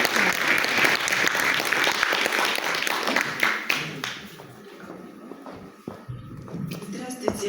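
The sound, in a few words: applause welcoming the Tver region delegation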